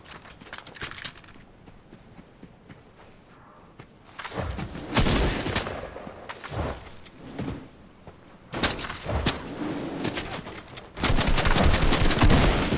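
Gunfire in Fortnite comes in repeated loud bursts of rapid shots, separated by quieter gaps, with a dense sustained volley at the end.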